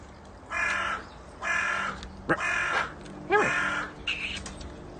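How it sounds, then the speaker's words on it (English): A magpie gives gentle warbling calls, several separate phrases with short gaps between them, close and clear with no talk over them. "Getting gentle magpie warbles."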